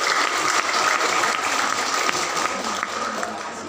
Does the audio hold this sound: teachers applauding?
yes